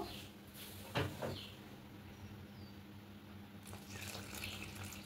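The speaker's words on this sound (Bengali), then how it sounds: "এবার এখানে উষ্ণ গরম জল দেব।" Warm water trickles and splashes from a tap into a bowl of naan paratha dough, with a couple of brief louder splashes and a soft steady flow, close by and without speech.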